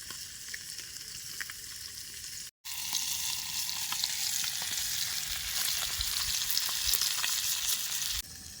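Fresh tilapia frying in a small pan over a fire at an outdoor farm site, a steady bright hissing sizzle, close and continuous, with a brief break partway through.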